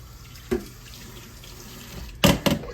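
Kitchen tap water runs while a pot lid is rinsed under it, giving a soft steady flow with a short splash early on and louder gushing splashes near the end.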